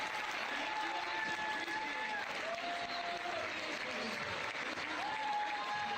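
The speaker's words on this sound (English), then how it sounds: "Hey, stop clapping." Steady audience applause at a GDQ speedrun marathon event, filling the whole stretch at an even level, with faint whistles or cheers riding on top and voices mixed into the crowd noise.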